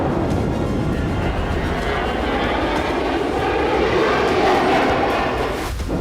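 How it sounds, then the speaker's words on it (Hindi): Drones and fighter jets roar overhead in the Ukraine war zone, a loud, steady, unbroken engine rumble that fills the air for several seconds before easing slightly at the end. "हवा में ड्रोन और फाइटर की गड़गड़ाहट"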